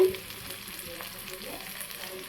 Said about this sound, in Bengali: এই যে পেঁয়াজ রসুন এগুলো দিয়ে দিছি ভাজার জন্য